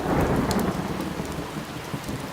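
Steady, dense rain falls with a thunderstorm, a continuous wash of drops with low rumbling underneath, fairly loud and even, with no voices.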